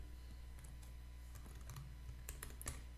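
Password being typed on a computer keyboard, a quiet run of light, irregular key clicks, sparse at first and then a quicker cluster near the end, against faint background hum.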